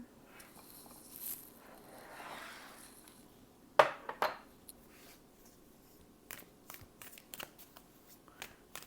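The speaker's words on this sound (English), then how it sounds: "I'm just pulling out some cards for you, Scorpio." Tarot cards pulled and shuffled from a deck, with soft rustling and papery slides early on, then a sharp card snap followed by a string of light flicks and taps, close and fairly quiet.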